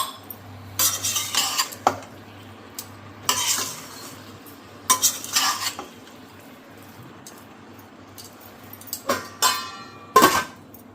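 Potato sabzi sizzles in a pan while a spoon stirs and scrapes against the metal in repeated bursts, with a soft cooking hiss underneath.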